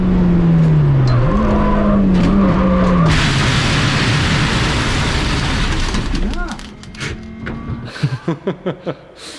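A K20-swapped Honda Civic EG race car on track drones loudly with a high engine note that drops and shifts. The roar then gives way to the gritty rumble of tyres running into gravel, followed by a few short bumps and thuds.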